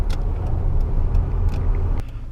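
A former work Toyota Tacoma pickup truck with high mileage drives along with a steady low engine and road rumble and faint ticks over the top, heard from inside.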